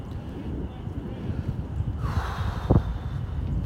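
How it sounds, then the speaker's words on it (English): Wind gusting steadily across the mic on a beach in North Naples, Florida, a constant low rumbling roar throughout, with a brief breathy sound partway through. "that wind out here is just cutting through my sweatshirt again this morning"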